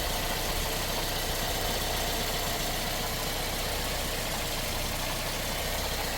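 A 2009 Toyota Corolla's 1.4L 1NZ-FE four-cylinder engine idles steadily and close by, a continuous even hum with a light mechanical chatter and no talking.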